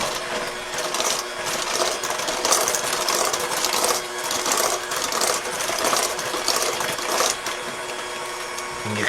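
An electric mixer beats Granny Smith apple fritter bread batter with a continuous, close mechanical whirring and rattling that stays level and runs on its own without talk.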